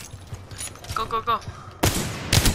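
Wingman pistol fire in Apex Legends, two heavy, loud shots in the second half following quieter game noise and a faint voice-like tone earlier.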